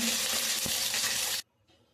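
Fish sizzles as it fries red-brown in a pan, a dense steady crackle that holds for over a second with one brief stir, then cuts off abruptly, leaving near silence and a faint rustle.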